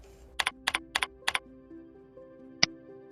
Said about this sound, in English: we try again by typing in coin to see if that will find what we are looking for